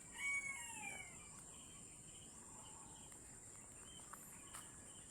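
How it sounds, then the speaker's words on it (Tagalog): A rooster crows once near the start, fairly loud, then soft clucks and a steady insect-like hiss continue in the background. "Malaki na yung mga manok ko dyan."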